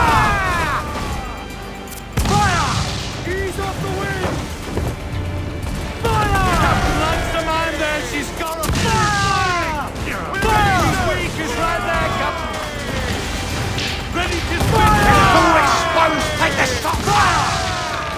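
Cannons boom and crash through a naval battle in Assassin's Creed 4 Black Flag, with loud repeated blasts amid shouted crew voices and swelling game effects.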